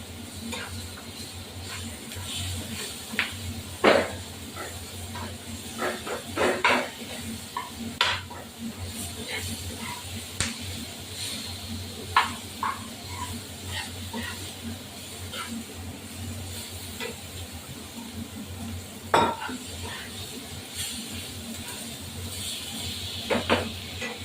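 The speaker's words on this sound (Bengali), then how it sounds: "আলুটা ভাজা হয়ে যাক।" Potatoes fry in a pan for a thin rui fish curry, a soft continuous sizzle broken by irregular scrapes and clinks of a spoon stirring against the metal.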